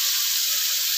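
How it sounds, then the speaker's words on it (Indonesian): Beef broth pours into a hot pan with a steady, bright hiss and sizzle that stays unbroken for the whole second, close and fairly loud. "Saya masukkan kaldu dagingnya ya."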